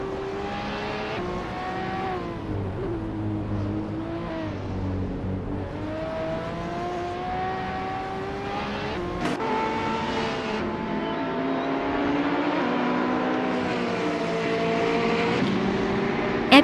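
Video-game race cars screaming around a track, several engines layered over one another with pitches rising and falling as they shift and trade places, steady and fairly quiet with no talk.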